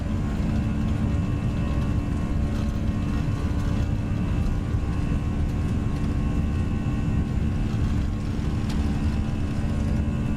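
Airliner engines roar during a takeoff roll in the X-Plane 11 flight simulator, a steady loud low rumble with constant engine drone throughout and no talking.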